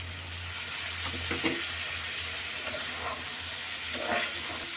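Onion stalks and potato frying in a pan make a constant loud sizzle and hiss, with a few soft stirring scrapes rising above it, heard up close and without speech.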